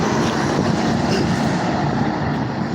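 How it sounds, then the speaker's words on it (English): A school bus drives past on a breezy street in West Kelowna, British Columbia, a loud, steady rumbling roar close by with no talk over it. "Alright, school bus going by."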